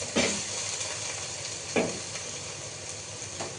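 Potatoes fry in a pan with a steady, close sizzle, broken by three scraping stirs spaced about a second and a half apart.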